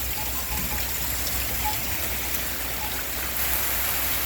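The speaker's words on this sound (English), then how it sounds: "Oh, it's raining." Steady rain pattering on surfaces outdoors, a continuous soft hiss of drops with no voices.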